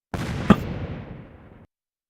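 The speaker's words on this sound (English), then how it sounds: "Grenade launcher." A single heavy grenade launcher blast in a VRChat game, a sudden loud boom with a broad rumbling tail that fades out over about a second and a half; no voices.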